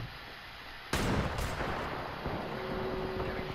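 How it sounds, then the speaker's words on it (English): A loud sudden gunshot bursts in Apex Legends, followed by a second crack and a lingering rumbling roar of battle noise. "I'm getting shot at."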